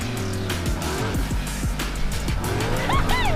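A Ford Raptor truck racing off-road on a dirt course, its engine revving through repeated rising and falling sweeps as it launches and shifts, with tires scrabbling, heard from a moderate distance.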